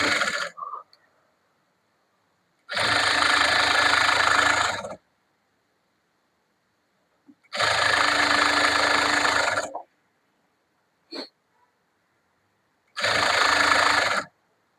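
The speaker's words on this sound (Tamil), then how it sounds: "அதை நம்ம மடக்கி தைச்சிடலாம்." Three bursts of a sewing machine stitching a folded blouse hem, each a loud, close, buzzing run lasting about two seconds, separated by near silence with a faint click.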